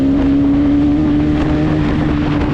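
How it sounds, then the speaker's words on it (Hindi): A Bajaj Pulsar NS200 motorcycle revving at high RPM while riding across a bridge, a loud, steady engine drone with wind rush and a reverberant echo throughout. "इसमें हाई आरपीएम में गाड़ी भगाने में साउंड भी ज़्यादा गूंजता है यहाँ पे"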